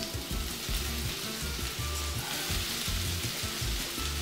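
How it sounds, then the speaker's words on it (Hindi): Broccoli, mushrooms and bell peppers sizzle with garlic in a hot pan, a steady close frying hiss with small crackles and occasional stirring scrapes, no voices. "इन सबको सॉटे कर लेंगे अच्छे से."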